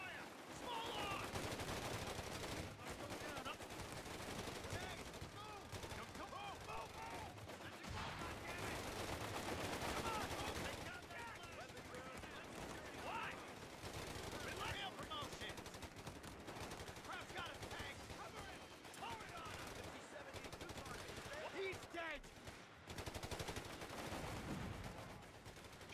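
Dense, continuous small arms gunfire in the World War II strategy game Company of Heroes 3, a steady rattle of rifles and machine guns through the whole stretch, with voices calling out over the battle.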